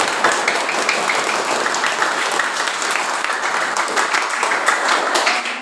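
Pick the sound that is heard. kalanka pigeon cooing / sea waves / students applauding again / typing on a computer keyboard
students applauding again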